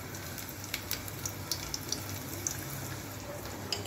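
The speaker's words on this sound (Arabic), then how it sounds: "وهنا حطيت زيت وهحط عليه ثوم" Garlic fries in oil in a pan for koshari with a soft, steady sizzle, broken by a scatter of small sharp pops and ticks, close by and fairly quiet.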